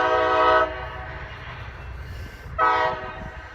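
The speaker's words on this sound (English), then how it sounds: "The joy of living next to a train." A train passing close to a house, with two loud horn blasts separated by a low, steady rumble of the rolling cars.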